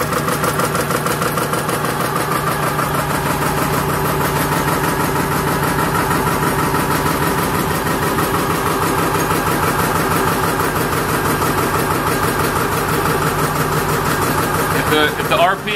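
An engine runs at a steady idle, its RPM set by a throttle control, with a constant dense rumble close by throughout and a brief change at the very end.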